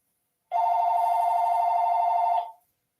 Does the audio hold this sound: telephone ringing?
yes